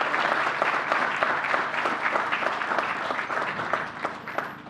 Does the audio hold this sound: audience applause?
yes